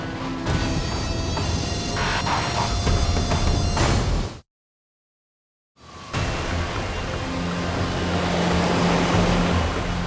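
Ocean waves pound and roar under heavy wind during a savage winter storm off the coast of Virginia, where the bulk carrier Marine Electric is struggling to stay afloat; the loud, dense surf cuts to brief silence midway, then resumes.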